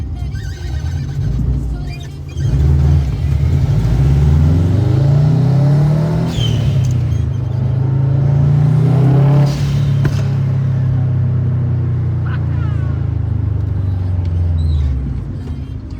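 A 2011 Subaru WRX STI hatchback on the road in Hamilton, Ontario, its engine revving hard through two rising pulls with a deep rumble, heard loud from inside the car before the revs fall back.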